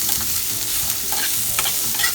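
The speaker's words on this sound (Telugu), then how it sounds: "ఇలా ఫ్రై అవుతూ ఉంటుంది కదండి." Turmeric-laced tempering fries in a pan for flattened rice upma, giving a steady close sizzle and crackle with faint stirring scrapes, no voices over it.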